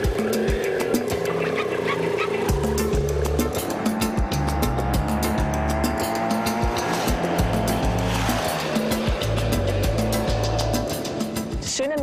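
A BMW F800 parallel-twin motorcycle engine is ridden on a South African road, its steady, even drone running loud throughout with shifting pitch, wind rushing past, and a voice talking over it.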